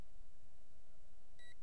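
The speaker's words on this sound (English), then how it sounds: "made the beeping noise" Quiet hum, then a short electronic beep from a STUNT X5C clone toy drone during gyro calibration, a single bright tone lasting a fraction of a second.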